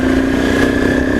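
A Honda CBR250 motorcycle engine revs loud and close, a steady buzzing mechanical drone with strong harmonic tones and no speech over it.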